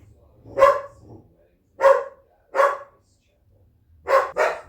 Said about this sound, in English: I can't avoid the dogs barking here.